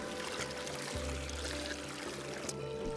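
Water pours down a waterfall in a series of tiered falls near Honeymoon Bay, a continuous rushing wash with no voices.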